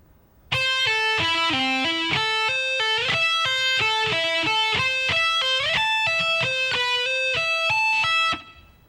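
Fast, bright shred electric guitar lick, a rapid continuous stream of hammered and pulled-off notes across the strings, loud and close for about eight seconds before stopping.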